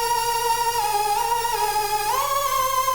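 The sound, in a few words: synthesizer patch with LFO pitch modulation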